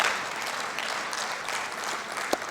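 A large audience at a Tanzania–Uganda business forum claps steadily, a dense wash of applause at moderate level with one sharper clap standing out near the end.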